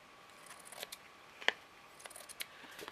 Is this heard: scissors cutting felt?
yes